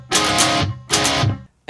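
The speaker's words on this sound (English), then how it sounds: "That would make this badass metal power chord." Distorted electric guitar strikes a metal power chord with alternate picking, two loud chugging bursts separated by a short gap, close and without voices.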